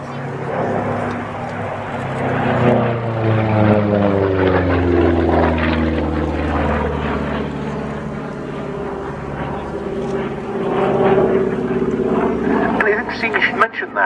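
A P-47 Thunderbolt fighter with a Double Wasp radial engine flies at an airshow at Cosford, its loud propeller drone swelling and shifting pitch as it passes, with commentators talking throughout.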